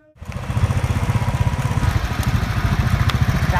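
A well-maintained motorcycle engine idling close by, a steady low rhythmic putter after a brief start, running alone without talk.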